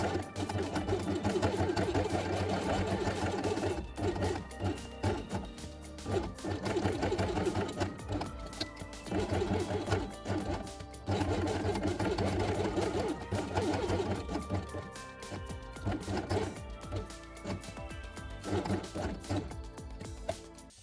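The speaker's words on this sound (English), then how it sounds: "sew along the edge with blue thread" A sewing machine runs along a fabric edge with blue thread for a quiet-book page, its steady whir continuing throughout, with dense musical tones layered over it and no speech.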